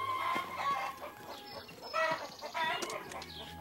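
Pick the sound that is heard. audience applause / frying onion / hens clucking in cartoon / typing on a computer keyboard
hens clucking in cartoon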